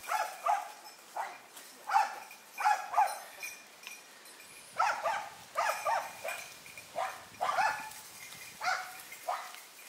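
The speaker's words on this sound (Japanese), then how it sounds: "犬が距離を保ちながらイノシシに向かって吠えています。" A hunting dog barks repeatedly at a wild boar at a distance, a series of sharp, irregular barks with brief pauses, over a quiet outdoor background.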